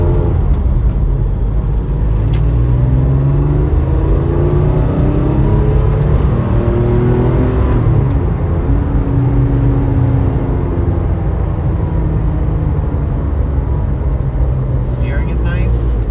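Porsche 996 engine heard from inside the car while driving, a steady loud low rumble with a gruff tone and a slowly shifting pitch, continuous throughout with a person talking over it.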